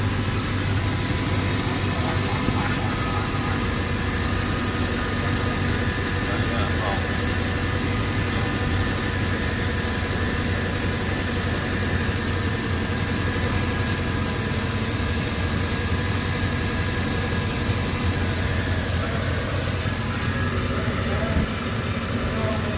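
A 2008 Ford F-series truck engine with a cam phaser fault idles steadily while warming up, a continuous close rumble for the whole stretch, with voices talking over it.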